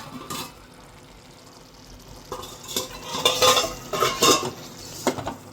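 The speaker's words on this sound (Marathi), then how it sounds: "आता त्यावरती आपण पुन्हा एकदा 5 मिनिटासाठी झाकण ठेवूया" Metal clinks and clanks of cookware, a few sharp knocks in a row as a lid is set on a pot of prawn and potato curry, over quiet background.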